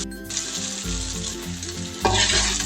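Taro (kochur mukhi) frying in hot oil for a Bengali fish curry, a steady close sizzle and crackle with a louder burst of spitting near the end, no voices.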